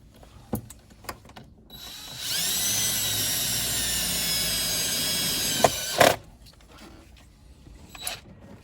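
A power drill drives a 1/2-inch self-tapping screw in one steady, loud whine of about four seconds that rises slightly as it bites, ending with a sharp clunk, with quiet handling clicks before and after.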